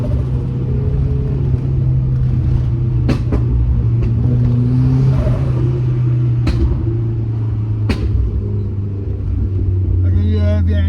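A turbocharged 1990s Ford Cosworth engine rumbles and burbles under acceleration, a close, loud, steady low drone with occasional sharp clicks and chatter, heard from inside the car.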